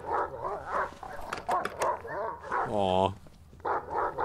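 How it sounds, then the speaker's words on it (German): A police dog in the horror game Silent Hill Downpour barks and yips close by in short bursts, with someone talking over and between the barks. "Auch wenn er mich jetzt ankläfft."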